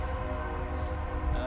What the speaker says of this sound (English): if this train would go by